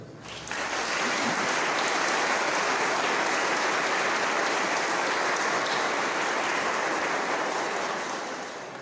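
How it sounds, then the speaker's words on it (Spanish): Sustained applause from a congregation in a parish church during a 2021 confirmation service fills the space: dense, steady and fairly loud, fading slightly at the end, with no talking. "Yo los invito para que le demos un fuerte aplauso."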